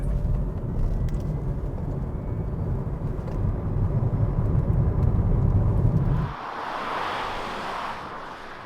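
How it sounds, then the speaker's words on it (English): A 2019 Kia Niro EV electric car pulls away in sport mode, a rising broadband road and wind rush building for several seconds before abruptly dropping to a quieter airy hiss. "Let's put the car into sports and drive."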